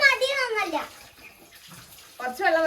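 Water runs with a soft, steady hiss into a children's play pool at home, while a voice talks over it at the start and end.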